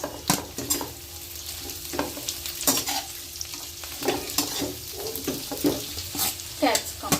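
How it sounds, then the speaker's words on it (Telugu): Cabbage hits hot oil for chapati noodles, sizzling loudly with repeated scraping stirs and clanks of a spatula against the pan, close and rhythmic. "ఇప్పుడు ఆయిల్ వేసుకుందాం. హీట్ ఎక్కింది కదా. ఇప్పుడు క్యాబేజ్ వేసుకుందాం."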